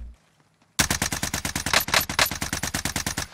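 Rapid automatic gunfire in Warzone starts abruptly after a short silence, then runs as a steady stream of loud, evenly spaced shots for close to three seconds.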